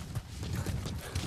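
A horse's hooves clip-clop in Metal Gear Solid V: The Phantom Pain, a quick series of soft, close thuds in an uneven walking rhythm over faint background ambience.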